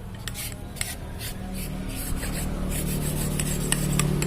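Sandpaper is twisted around a motorcycle front fork tube, giving a continuous scratchy rasping with faint rhythmic strokes. It sounds close and steady, with no talking.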